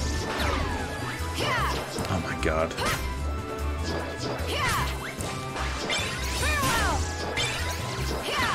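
Hits and smashes ring out during gameplay of the video game Kingdom Hearts Birth By Sleep, a dense series of sharp crashing impacts and whacks over game music, with someone talking over them.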